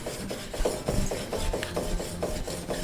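A steel card scraper is rubbed back and forth on a coarse sharpening stone, producing close, even rasping strokes in a quick regular rhythm.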